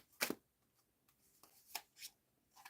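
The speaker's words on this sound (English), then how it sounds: "Close the deck. You want me to close the deck? Shuffle." A tarot card deck shuffled in short riffle bursts, three or four crisp quick rustles separated by brief pauses, close and fairly quiet, with no voices.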